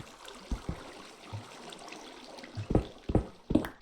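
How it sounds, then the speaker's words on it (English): Water flowing in a Minecraft cave: a faint, steady trickle runs underneath, broken by a few sharp knocks and taps that cluster toward the end, with no voices. "I hear water"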